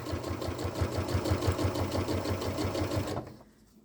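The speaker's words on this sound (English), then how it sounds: "And then we'll just start sewing." Sewing machine stitching thick webbing for a garden bucket caddy: a steady, rapid mechanical chatter running continuously at close range, then stopping abruptly near the end and leaving quiet.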